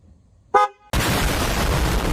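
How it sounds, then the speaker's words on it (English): A brief loud honk from a Ram truck horn, followed immediately by a continuous roar of broadband noise. "Programmed, the indicator will turn green and your horn will sound."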